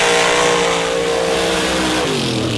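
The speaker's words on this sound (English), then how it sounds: "706 cubic inch VZ power plant." A 706 cubic inch big block Chevrolet race car engine at a Missouri drag racing championship revs loud and close with a harsh, sustained roar that shifts in pitch toward the end.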